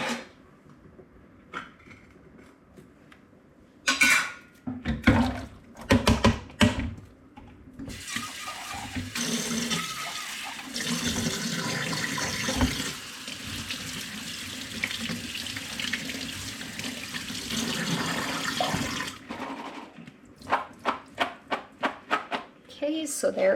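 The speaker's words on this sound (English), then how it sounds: "Okay, then I am going to rinse both cans of beans." Two cans of beans rinsed under a running kitchen faucet, water splashing steadily into a sink for several seconds, broken by shorter bursts and clunks of the cans being handled, with a voice speaking in between.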